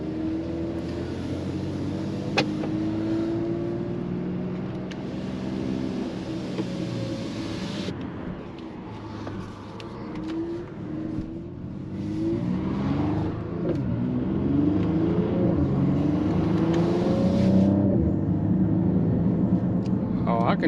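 A 2024 Mercedes-AMG GLE 53 Coupe with turbocharged engine accelerates, its engine drone rising and swelling from inside the cabin as someone talks over it.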